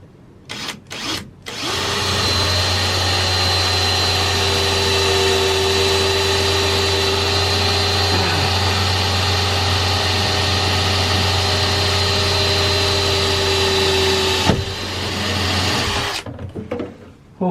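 A power drill bores steadily through the metal roof of a Fiat Ducato van, a loud continuous whine running about twelve seconds without a break, framed by short clunks and handling noises at the start and end.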